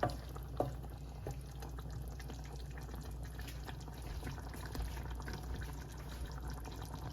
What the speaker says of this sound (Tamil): கொதித்து கொண்டு வருது பாருங்க எப்படிண்டு